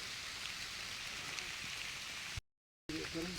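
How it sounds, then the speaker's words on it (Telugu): Light rain falls on a hillside path in a tribal area of Seethampeta, a soft steady patter that cuts out briefly near the end before resuming. "యాక్చువల్గా ఇప్పుడు ప్రజెంట్ కొంచెం తగ్గింది వర్షము"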